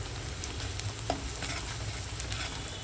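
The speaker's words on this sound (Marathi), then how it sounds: "आता आपण हे हलवूया व्यवस्थित" Ground spices, including coriander powder and kitchen king masala, are stirred as they fry in a pan for a garlic fenugreek dish. A steady low sizzle runs throughout, with light scraping and a soft clink, and no talking.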